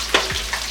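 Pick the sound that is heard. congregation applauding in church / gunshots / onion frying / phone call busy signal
onion frying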